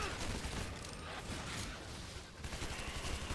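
Rapid gunfire in the Shadow Warrior video game as demons are shot, a dense continuous fusillade of overlapping shots filling the short stretch at steady loudness.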